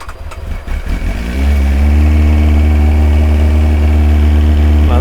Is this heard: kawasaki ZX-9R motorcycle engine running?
yes